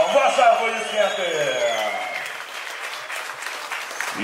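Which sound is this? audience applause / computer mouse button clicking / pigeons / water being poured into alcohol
audience applause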